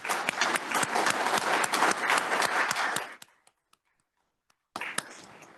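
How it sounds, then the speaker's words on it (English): An audience at a law conference on natural resources applauds its sponsors, the crowded clapping steady for about three seconds before fading into a few isolated claps, then a short final burst. "please join me in giving them a round of applause"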